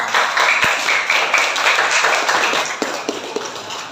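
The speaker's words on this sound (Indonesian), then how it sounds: "Beri tepuk tangan untuk kelompok pertama" A sixth-grade class applauding the first group, a burst of many hands clapping fairly close and loud for several seconds, tapering slightly toward the end.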